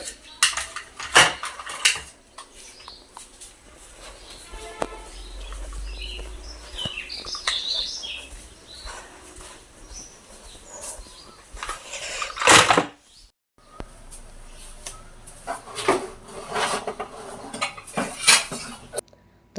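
Dishes, pots, pans and cutlery clatter and clink in a home kitchen, with repeated close knocks and scrapes through the clip and a few faint bird chirps in the background.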